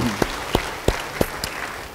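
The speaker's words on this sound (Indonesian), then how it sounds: "Beri tepuk tangan bagi Dia." Church congregation clapping for a few seconds, five distinct loud claps in a slow even rhythm over a faint background of scattered applause, with no voices.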